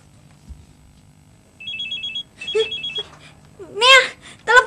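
Indoors at home, a telephone rings in two short trilling bursts, then loud voices and a shout break in near the end.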